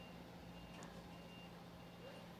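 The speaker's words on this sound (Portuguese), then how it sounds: "é o caminhão do lixo passando aí" A garbage truck passes by in the distance, its engine a low steady hum and a single high reversing-style beep sounding faintly once, the whole thing quiet.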